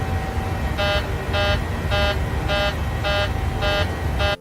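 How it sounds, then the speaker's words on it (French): An aircraft cockpit warning alarm sounds in flight on the Helios 522 airliner, a steady series of seven evenly spaced electronic beeping bursts over constant loud engine and cabin drone, with no talking. "une alarme retentit dans le cockpit"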